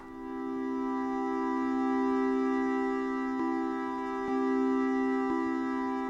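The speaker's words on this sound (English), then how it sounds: "And this is what it sounds like with the reverb." A steady sustained synthesizer tone from an Arturia MiniFreak with an Akai Force, with rich harmonics and a spacious reverberant tail, punctuated by a few faint pops.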